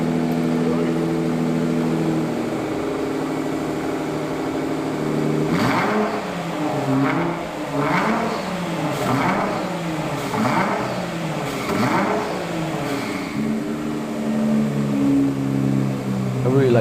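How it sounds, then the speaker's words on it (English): A Nissan GTR exhaust on its original downpipes revs repeatedly in a series of loud, sharp bursts that rise and fall, following a steady idle rumble. "I really like the sound of that exhaust."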